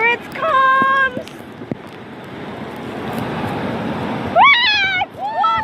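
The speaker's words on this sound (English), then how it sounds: "big waves out there." Big ocean waves at the beach give a steady surf roar. Excited voices of people talking and shouting sit over the top at the start and end.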